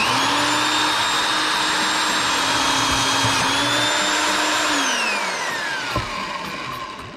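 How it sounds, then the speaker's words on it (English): A power drill bores through a fuel pump block-off plate for a Ford Flathead 8BA engine, whining steadily at close range, then slowing and winding down near the end. "Let's try drilling it the rest of the way and see if it mounts up"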